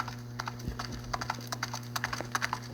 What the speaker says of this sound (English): You hear the horses? Nice sound effect.